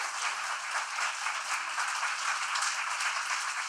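A crowd applauding steadily and densely for the whole stretch, a continuous wash of many hands clapping with no voices over it.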